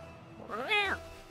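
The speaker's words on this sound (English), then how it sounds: "The cat engine noise" A short, bright cat meow with a rising then falling pitch, heard once against a quiet background; a cat-sound car engine in Rocket League.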